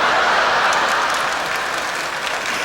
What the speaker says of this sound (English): No applause, please.